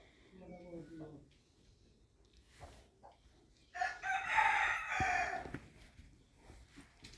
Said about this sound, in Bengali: মুরগি মোরগ ডাকাডাকি করতেছে